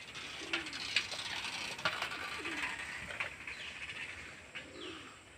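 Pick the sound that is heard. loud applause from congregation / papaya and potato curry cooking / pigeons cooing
pigeons cooing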